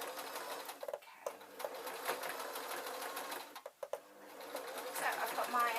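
A sewing machine runs steadily while stitching a Scottish tam hat, its fast mechanical chatter continuous for several seconds with a couple of brief pauses near the end.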